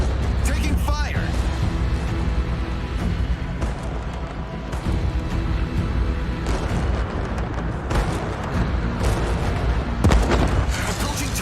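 A warship in World of Warships comes under fire, with repeated heavy booms and rumbling impacts close and loud. Clipped in-game voice callouts sound over the battle noise.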